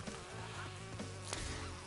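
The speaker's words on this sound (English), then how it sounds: "these bees seem deadly" Swarming bees buzz in the Crash Bandicoot 2: Cortex Strikes Back level of the N. Sane Trilogy on PS4, a steady insect drone layered over game music with a brief sharp effect partway through, no talk.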